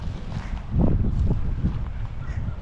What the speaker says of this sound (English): A little bit of wind, but today it's not too bad.